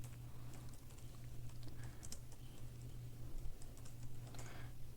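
Rapid, uneven tapping on a computer keyboard while writing code, close and moderately quiet over a steady low hum, with no speech.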